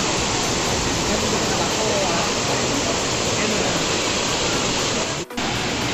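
A waterfall roars in a steady, dense rush of water, loud and close, continuing unbroken with only a brief dip near the end.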